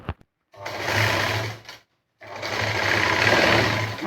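A sewing machine runs loud and close, stitching along the edge of a puff sleeve in two steady bursts separated by a short pause.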